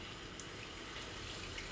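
Water drained from soaked chilies pours steadily into sugar in a pan while making hot sauce, a faint, even liquid trickle lasting under two seconds with no voices.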